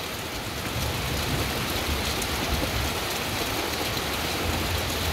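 A downpour keeps hammering a waterlogged mango orchard on a rainy morning, producing a thick, unbroken roar of drops that stays near and constant throughout.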